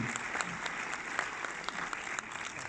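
Continuous applause from a cinema audience at an Orléans premiere screening, many hands clapping at an even level with occasional crisper individual claps, with a faint murmur of voices mixed in.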